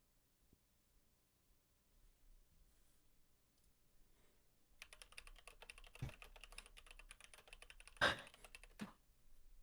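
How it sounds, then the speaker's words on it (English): Quiet room hum, then loud rapid clicking of a computer keyboard starts midway and rattles on, with a couple of sharper key thumps. "Why is your keyboard so fucking loud?"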